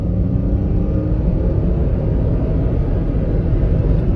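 A 2002 Honda Insight hybrid with CVT accelerates up a gradual hill with the air conditioning running, giving a steady, loud, even engine drone with low rumble throughout and no talk.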